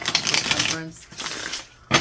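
A deck of playing cards is shuffled during a tarot-style reading, giving bursts of crisp riffling and fluttering snaps close by, with a pause and then a short final burst.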